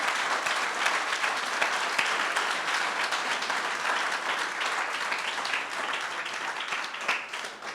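A church congregation at a Sunday service applauds together, a continuous, dense roar of many hands clapping at fairly even strength throughout, with no talk over it.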